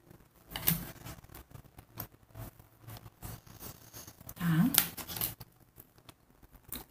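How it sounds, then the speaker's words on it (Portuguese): Scissors slowly snipping fabric for a baby dress, a series of soft close crunching cuts spread across the moment, with one louder snip near the end and faint handling sounds. "Mas eu tô cortando devagarzinho aqui"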